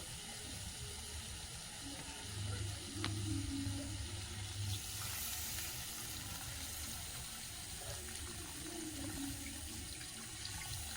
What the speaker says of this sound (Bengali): সবজিটা বেশ ভালো করে কষিয়ে নিয়েছি জলটা দিয়ে দেবো